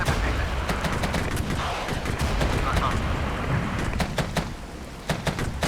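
Enemy artillery fires in the video game Regiments, a dense run of sharp booms and cracking blasts over a steady rumbling battle bed, loud and continuous throughout.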